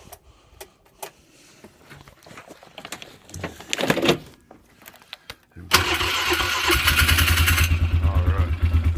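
A motorcycle is cold-started after sitting: clicks and cranking attempts come first, then the engine catches and settles into a loud, steady, close-up idle for the last few seconds.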